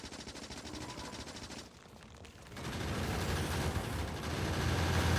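Gun turrets in the game Factorio fire in rapid automatic bursts, a continuous dense rattle of shots that dips briefly and then swells louder, with no talk over it.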